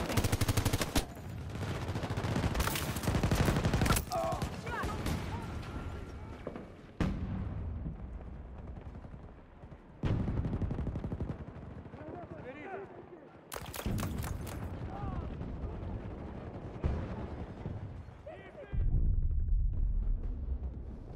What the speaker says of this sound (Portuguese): Torreta automática!